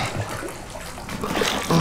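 Water sloshing and gushing in Resident Evil 7, a short, steady wash of moving liquid at moderate loudness that swells toward the end.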